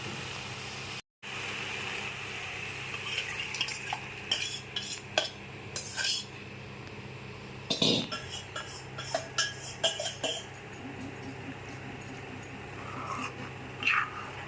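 Drumstick pieces going into hot oil in a pan for an Andhra-style onion and drumstick curry: a steady low sizzle with repeated metallic clinks and clattering of pieces and utensils, close up and without talk.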